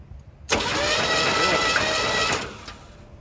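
The starter of a neglected 1981 square body truck, sitting for 23 years, cranks the engine in one steady, close, continuous whirring burst of about two seconds, then stops.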